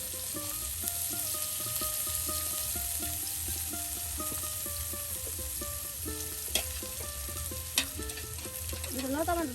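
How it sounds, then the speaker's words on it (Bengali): Spices frying in oil for a goat meat curry, a dense continuous sizzle with rhythmic scraping strokes of a spatula and a couple of sharp clinks, close and steady without talk. "আর এখন তেলের সাথে সকল ধরনের মশলা দিয়ে এগুলো সব ভেজে নেওয়া হবে"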